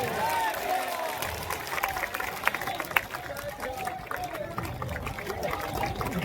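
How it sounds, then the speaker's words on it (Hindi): A crowd applauds to welcome party president Manoj Bharti, with continuous dense clapping mixed with murmuring voices and a few louder claps standing out. "जोरदार ताली बजाइए"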